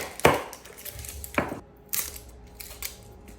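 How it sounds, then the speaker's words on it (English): A knife cuts through an onion on a wooden board, with sharp, close chops and slicing scrapes in a few separate strokes and quiet pauses between them. "with our onion, we're gonna take it right in half"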